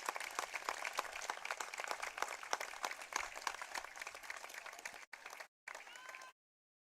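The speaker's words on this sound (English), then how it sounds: "crowd here is going to give her a good round of applause" A stadium crowd at a Stanford women's college soccer match against the University of San Francisco applauds as an injured player gets to her feet, a steady wash of distant clapping that drops out briefly near the end, then cuts off.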